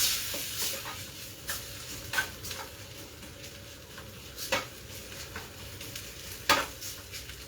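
Masala fries in a pan under a faint, quiet sizzle, broken by several scattered sharp spoon scrapes and clinks against the pan as it is stirred.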